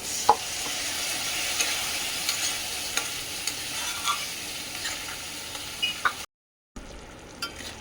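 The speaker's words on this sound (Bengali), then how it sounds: "এই যে দইয়ের মধ্যে সব মশলা আছে এটা দিয়ে দিব এটা দিয়ে ভালো করে এখন কষবো" Spices mixed into yogurt frying in mustard oil while being stirred, a steady close sizzle with scattered scraping clicks of the spoon, cut by a brief silence near the end before the sizzle resumes.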